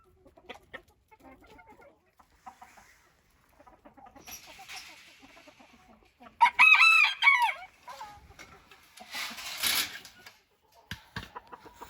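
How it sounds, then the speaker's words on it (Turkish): A rooster crows loudly once, close by, amid softer clucking hens and scattered farmyard noises in an otherwise quiet setting. "Çok güzel horoz maşallah."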